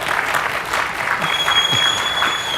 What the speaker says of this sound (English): I would hope you give me some set of applause